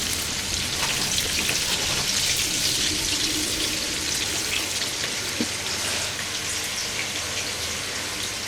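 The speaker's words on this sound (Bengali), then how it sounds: "বেশ সুন্দর ভাজা ভাজা হয়ে যাচ্ছে" Bitter gourd slices fry in a pan with a dense, even crackling sizzle, like steady rain, close and continuous throughout.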